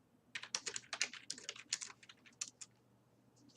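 Rapid clicking of computer keys comes in quick irregular bursts, close and fairly quiet, then stops near the end.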